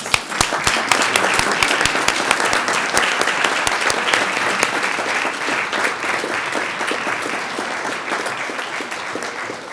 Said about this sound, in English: give our volunteers a standing ovation. A round of applause